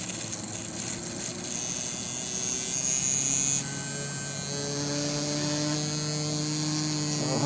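A MagSpinner pulse motor spins at about 6,000 RPM with a steady electric whine and hum. The pitch shifts and a higher tone rises partway through, close and continuous, with no voices.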